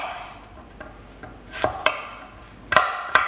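A knife rough-chops a carrot into quarters for an Asian chopped salad, giving a handful of sharp, irregular thunks close by with short pauses between cuts.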